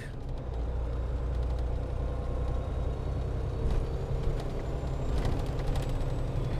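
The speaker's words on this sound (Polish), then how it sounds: "bardzo fajnie ten silnik pracuje" An old 2003 Volvo truck's diesel engine runs steadily, a deep continuous rumble with even throbbing heard from close by, with brief faint clicks now and then.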